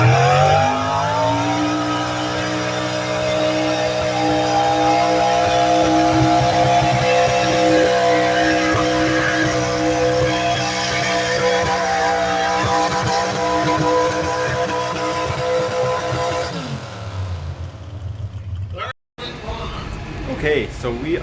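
A modified pulling truck with a standard transmission roars under sustained heavy load at the Navan Fair tractor pull, loud and steady for about sixteen seconds before the engine note drops away and fades.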